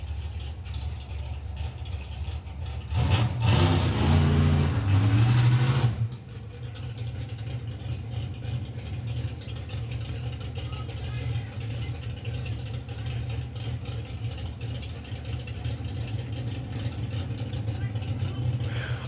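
A drag racing car engine at a drag racing event idles with a steady low rumble, then revs up loudly for a few seconds before settling back to a deep idle.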